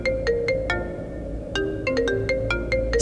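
A mobile phone rings with an incoming call, playing a bright, repeating electronic ringtone melody of quick plinking notes, close and clear with no voices over it.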